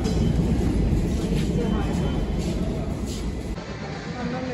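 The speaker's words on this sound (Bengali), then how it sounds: "আর মেট্রো হচ্ছে গিয়ে বেরিয়ে গেল একটা" A metro train pulls out of a station, its steady low rumble and rail roar filling the platform, fading slightly near the end while a few people talk faintly nearby.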